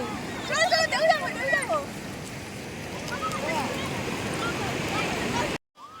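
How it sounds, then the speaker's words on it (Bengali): Sea waves at Digha beach: a broad, steady wash of surf and wind with excited voices over the opening seconds, ending in a brief cutout. "কি ঢেউ আসছে"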